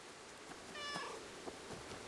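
A single soft meow from the cat in the video game Stray, faint and short, rising above a hissy background.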